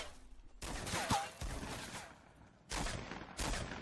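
Gunfire in the Fortnite video game, bursts of rapid automatic shots in several volleys with a short lull between, fairly faint and without voices.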